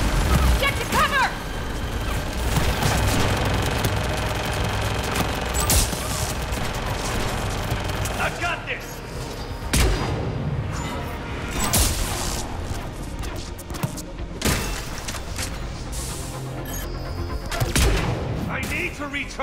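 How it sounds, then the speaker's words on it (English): Gunship firing in a Mass Effect 3 battle on Thessia, dense sustained gunfire and explosive booms, loud and continuous with sharp bursts, while voices shout over the combat. "The gunship's taking up position."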